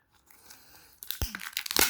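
Parcel packaging and tape tear open in sharp crinkling rips, quiet at first and then a loud burst of tearing near the end, close by with no talk.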